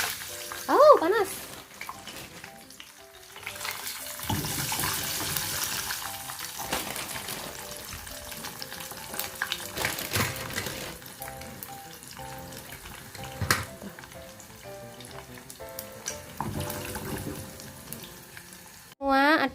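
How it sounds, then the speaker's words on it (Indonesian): Potato fries sizzling in hot oil for breakfast, a steady close crackle that swells and fades with stirring, with a few brief thumps. "Nah ini sekarang aku mau siapin sarapan. Aku mau kentang goreng."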